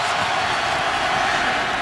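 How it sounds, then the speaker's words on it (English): Crowd at Arrowhead Stadium in Kansas City during a 2016 Chargers at Chiefs NFL game, a dense, continuous roar that holds steady and loud throughout. "They have to handle this crowd noise early, which can be deafening here at Arrowhead."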